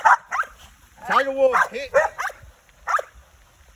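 Two working dogs bark, yip and whine during a bite-training session, close and excited in short bursts, while someone talks and gives commands throughout.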